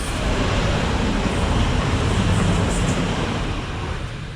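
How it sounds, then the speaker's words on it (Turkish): A loud, continuous low rumble of a regional train arriving at a village station in Germany, steady throughout with a faint high squeal near the end. "bir tane tren geliyor"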